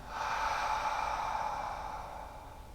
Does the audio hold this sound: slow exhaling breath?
yes